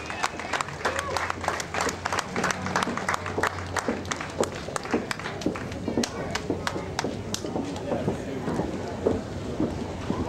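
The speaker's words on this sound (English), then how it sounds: "So come on, let's have some applause for them too." Outdoor Labour Day parade crowd in Tombstone clapping, a scattered, steady patter of hands heard over background chatter and a commentator's voice throughout.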